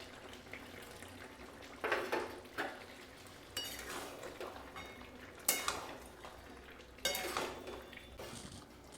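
Fried paneer and raisins being stirred into a vegetarian navratan korma, with a spoon scraping and clinking against the pan in a few separate bursts, close but fairly soft with quiet gaps between strokes.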